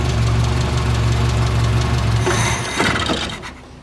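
A Renault R5 LeCar engine runs at a rough, slightly knocking idle, close and loud, then stumbles and fades toward silence near the end.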